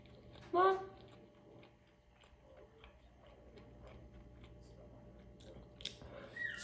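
One crunchy bite into a fast food fish sandwich, loud and close, followed by softer chewing and small clicks under a quiet background.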